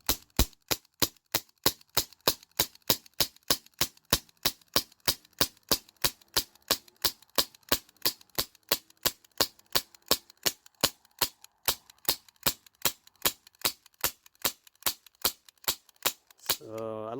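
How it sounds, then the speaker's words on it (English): Umarex Brodax BB pistol dry fired on leftover HPA gas in the line, a long, steady series of about fifty sharp, loud pops at an even rhythm, nearby and alone, ending in a short hiss. "There's still gas in this line, so you do have to dry fire this."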